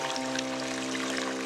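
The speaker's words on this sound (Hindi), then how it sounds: "पानी बहने की आवाज़ सुनाई दे रही है।" Water flows through a small canal running across a garden, a soft, steady trickling pour heard close and gentle with a faint hum beneath and no talk.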